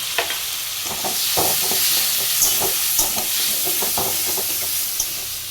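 Diced potatoes fry with salt and turmeric in hot oil, a loud continuous hiss close by, broken by repeated scraping and stirring strokes of a utensil against the pan.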